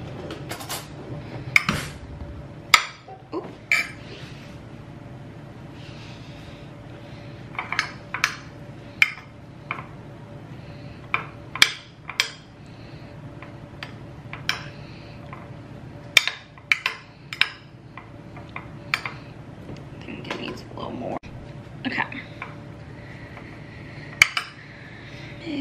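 Salad tossed with dressing in a bowl, giving sharp clinks and knocks of utensils against the dish in irregular bursts, close and fairly loud over a steady low background hum.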